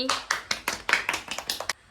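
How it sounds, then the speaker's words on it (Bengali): About a dozen quick, close hand claps in a steady rhythm, with a voice speaking over them. "চলো পিউ ভালো হচ্ছে, সুন্দর, হাততালি হাততালি"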